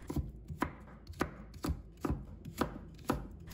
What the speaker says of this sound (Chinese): 再改刀切成细丝